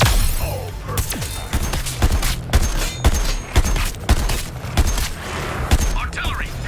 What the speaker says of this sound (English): Artillery, hit the deck.